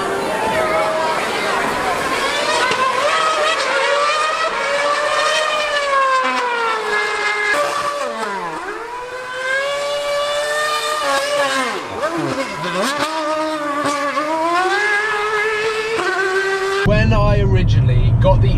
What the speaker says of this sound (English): We can hear the F1 car.